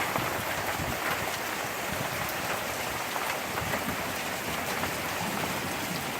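Heavy rain pours steadily through a sudden thunderstorm, a dense, even roar of drops hitting surfaces, close and loud throughout with no voices.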